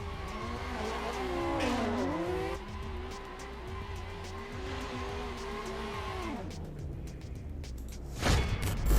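A race car's engine revs hard in a DCGP sim race, wavering up and down through shifts with tire squeals, then cuts off before a loud thump near the end.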